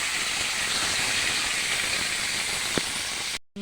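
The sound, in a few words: chicken added to a hot pan, sizzling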